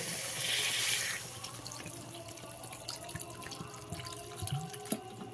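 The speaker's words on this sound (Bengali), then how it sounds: "এবারে এর মধ্যে দিয়ে দিতে হবে পরিমাণ মতন জল" Water splashes into a pan of spiced prawn curry cooked with green bananas in a village style. A short, hissing pour comes first, then quieter drips and small clatters.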